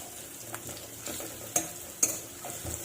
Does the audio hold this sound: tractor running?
no